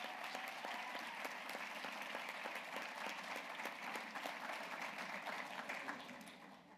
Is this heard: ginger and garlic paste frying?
no